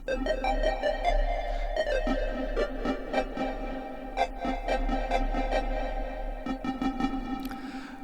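A DRC synth lead keys patch with no external processing plays a busy sequence of short plucky notes over a steady low drone, moderately quiet with no voices.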